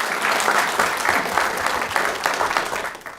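A room full of people at a city council meeting breaks into loud, steady applause, dense rhythmic clapping that holds for a few seconds at close range.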